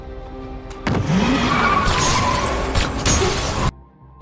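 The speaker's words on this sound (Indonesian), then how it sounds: "dia langsung tancap gas" In a film scene, a car speeds away from a red light while being shot at: a loud, close engine roar with tire squeal and a crashing edge, cutting off abruptly.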